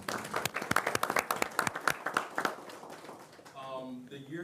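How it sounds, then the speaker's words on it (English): An audience at a school board of education meeting claps in a burst of scattered applause that tapers off after a few seconds, followed by faint room sound and a soft voice. "So give them a round of applause."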